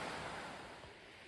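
A creek flows in the woods as a soft, steady wash of water, faint and continuous with no voices.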